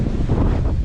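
Ocean wind gusting during wing foiling off Hawaii, a loud close buffeting rush of wind across the microphone, continuous for under a second with no talk.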